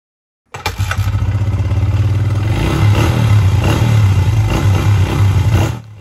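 A motorcycle engine suddenly starts up and revs hard close by, holding a loud, throaty roar with rising and falling revs for about five seconds before easing off.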